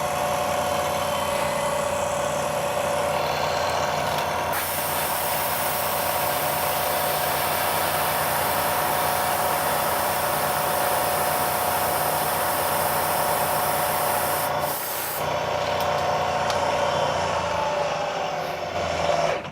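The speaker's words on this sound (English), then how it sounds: "Now you can see the bit is carving away the material and leaving a really nice, perfectly rectangular channel." A milling machine bit carving a rectangular channel in machining plastic, a steady loud whirring grind that runs almost continuously, with a brief dip and shift in tone near the end.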